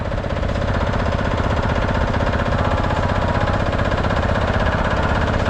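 A small single-cylinder diesel Lanz Bulldog tractor engine with electric start chugs loud and close, its rapid, even knocking beat continuing without a break under outdoor ambience at a vintage tractor pull.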